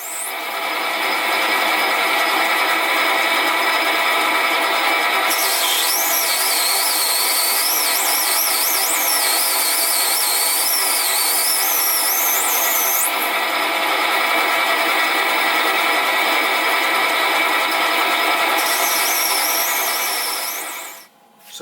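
A metal lathe turns a Stuart 10V steam engine valve rod down to half-inch diameter: a steady close mechanical whir with a high shifting whine from the cut, running continuously without talk.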